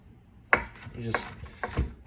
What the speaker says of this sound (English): you want to just smash the garlic down like this